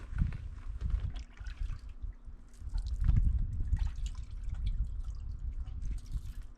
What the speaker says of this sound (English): you squeeze them to squeeze the water out of them, the excess water